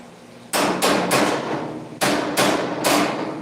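Heavy hammer blows strike a custom-made metal headlight bucket during hood fabrication, six loud ringing impacts landing in two groups of three, close and without talk.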